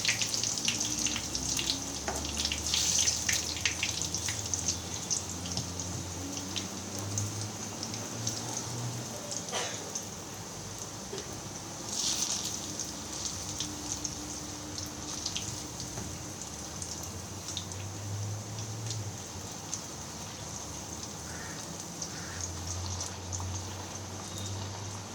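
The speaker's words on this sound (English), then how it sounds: "Take your leaf, dip it evenly so that it gets coated in the batter and drop it into the hot oil." Batter-coated spinach leaf frying in hot oil, a steady, dense sizzle and crackle like light rain that continues for the whole stretch, fairly quiet, with occasional faint clinks and low background hum.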